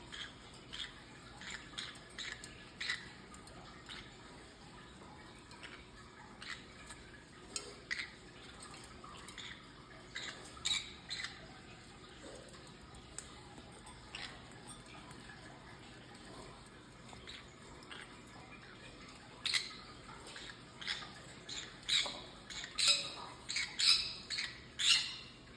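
A green-cheek sun conure parrot named Tico bathing, with scattered sharp squawks and chirps plus soft water drips and splashes, growing louder and busier toward the end.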